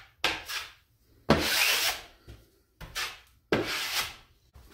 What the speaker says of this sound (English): make sure you scrape off the excess